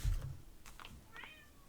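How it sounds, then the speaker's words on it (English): A house cat meows a couple of times in a quiet room, a short nearby call rising over faint background noise and a brief low thump at the start. "This cat is gonna drive me crazy."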